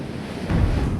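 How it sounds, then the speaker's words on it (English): Wind gusts and ocean waves wash together in a short, dense roar outdoors near the shore, swelling louder halfway through with no voices. "The gentle sound of wind and waves woke me the next morning"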